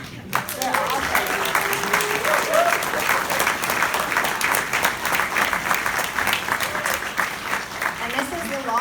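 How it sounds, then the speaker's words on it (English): A rally crowd cheers, whoops and applauds steadily for several seconds, a dense, loud wash of clapping with voices shouting over it throughout. "I want you all to just give yourself a big cheer"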